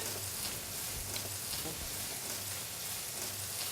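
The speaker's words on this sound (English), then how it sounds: "A little bit of sizzle there, always good." Oil sizzles steadily in a pot, a soft, continuous crackling hiss with no talking.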